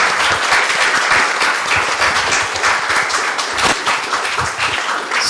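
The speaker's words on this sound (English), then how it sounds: "I think we can applaud again." A lecture audience applauds after a talk on Prince Damrong's journey to Angkor. Dense, loud clapping from many hands fills the room and holds steady throughout.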